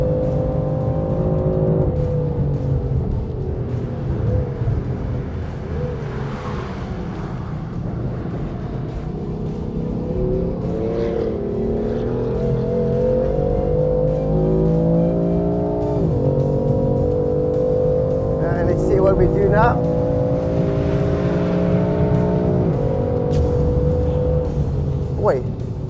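BMW M4 Coupé GTS with M-DCT gearbox lapping a race track, its engine loud and close throughout, rising through revs with repeated sharp gear changes and brief drops on lift-off, under steady cabin noise.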